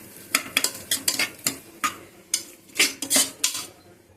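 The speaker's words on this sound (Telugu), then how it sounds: "వేసుకున్నాక మరి ఒకసారి తిప్పుకోండి" Onions salted in a kadai for an amaranth-leaf fry are stirred with a metal spoon, a quick run of a dozen or so sharp scraping clinks against the pan over a faint sizzle.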